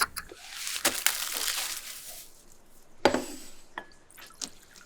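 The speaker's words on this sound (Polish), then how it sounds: "Opłucz natkę pietruszki w misce z wodą." Parsley being rinsed in a bowl of water in a home kitchen, with sloshing and splashing that swells and fades, brief drips and clinks between, close and fairly loud with no talking.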